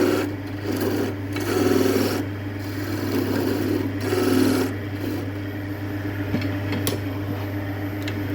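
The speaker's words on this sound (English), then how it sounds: "I do use the skew up here because it puts a lot less pressure on it." A skew chisel cuts wood on a lathe while turning a small Christmas tree, the motor's steady low hum running underneath rough, scraping cuts that swell and fade in several passes.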